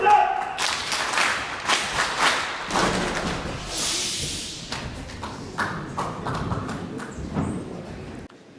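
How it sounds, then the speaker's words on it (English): An audience claps as Ambassador Prem Rawat is welcomed to the podium at a PEACE Programme event, the applause uneven and patchy with loud individual claps standing out, fading near the end. "A round of applause, ladies and gentlemen."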